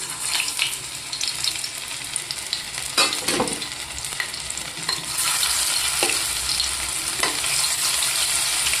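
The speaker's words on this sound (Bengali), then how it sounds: "তেল গরম হয়ে গেছে, এবার আমি চামচের সাহায্যে সয়াবিনগুলো দিয়ে দিচ্ছি।" Steady loud sizzling of soybean chunks frying in hot oil, with occasional clinks and scrapes of a spoon stirring throughout.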